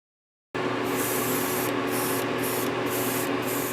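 Polyacrylic clear coat is sprayed onto a hand-built four-part hinged swimbait lure: a loud, close, continuous hiss that starts abruptly after a brief silence and pulses slightly in strength.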